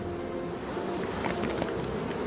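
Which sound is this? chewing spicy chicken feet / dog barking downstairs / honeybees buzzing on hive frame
honeybees buzzing on hive frame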